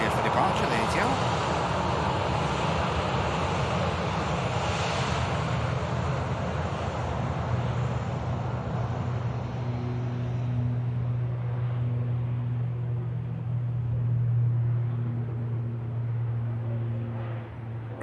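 An ATR turboprop airliner departs Manchester Airport on a full-length takeoff, its steady engine roar and wind rush sustained throughout, with a low tonal hum emerging partway through.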